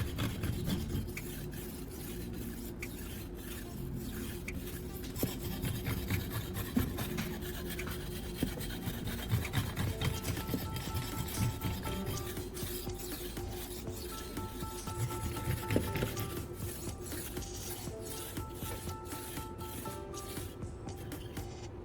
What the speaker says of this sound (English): moving the stone smoothly back and forth along the full length of the blade, using even pressure to create a smoother,